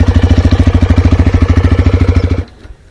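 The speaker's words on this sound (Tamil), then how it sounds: "பார்த்திங்க அப்படின்னா வண்டி ஸ்டார்ட் ஆகிடுச்சு" A TVS Raider 125 motorcycle engine idles with a loud, close, even thumping putter, then cuts out abruptly near the end, leaving faint quiet.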